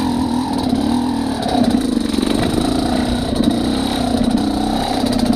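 A motorcycle engine fitted with a SmartCarb SC2 carburetor, revving during a riding test: a continuous, close, throaty drone with small surges in revs and no talking over it.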